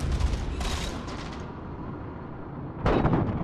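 Gunfire and grenade blasts in Halo 4 Capture the Flag on the map Adrift, dense booming shots and explosions filling the scene with a loud burst near the start and another near the end.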